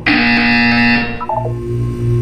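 A buzzer from the video game Portal sounds loudly for about a second, then drops into a descending run of short electronic tones, followed by a lower sustained hum.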